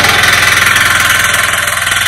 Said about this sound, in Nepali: गोरुले जोतेको बारी अहिले ट्र्याक्टरले जोत्न थाल्यो।